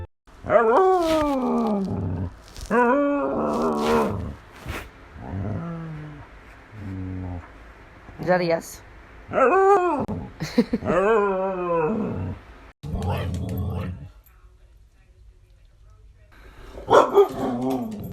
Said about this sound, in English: She would moan and howl all the time.